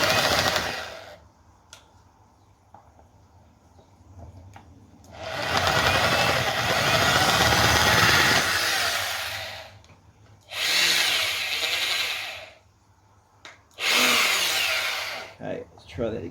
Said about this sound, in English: we're going to try and start this motor